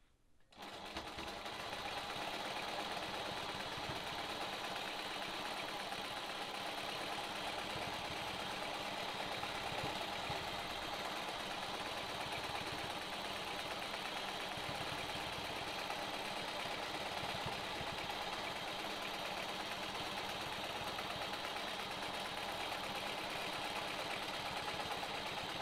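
A sewing machine stitches in the ditch along a quilt's seams, a steady fast whirring hum running close and continuously without talk.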